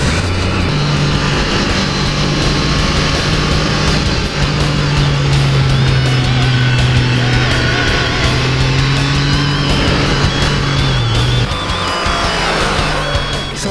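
A Triumph Trident 660 motorcycle ridden on a twisty road in the Forest of Dean, engine held in a steady throaty drone with small rises and falls in pitch, loud and continuous without talk.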